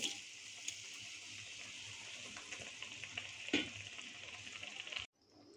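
Fried paneer and a yogurt and milk-powder mixture go into hot masala, giving a loud, continuous sizzling hiss with brief stirring surges. It cuts off abruptly near the end.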